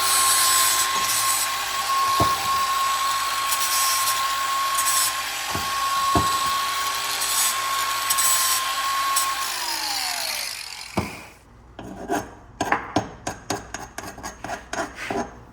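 A small power grinder works the freshly cut steel end of a tractor PTO shaft, a high steady whine with brief scraping catches that winds down near the end, followed by a run of sharp metallic taps and scrapes.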